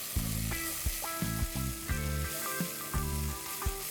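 Onion sizzling in a hot pan with fresh ginger, garlic and green chili paste while Punjabi-style panchratna dal is prepared, a loud steady frying hiss broken by regular stirring knocks and scrapes, with no talk.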